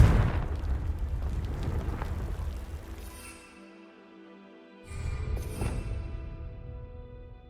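Blasting-spell explosions in Hogwarts Legacy burst with deep, booming rumbles, one fading into a lull before a second fiery blast erupts, both loud with crackling, sustained tails.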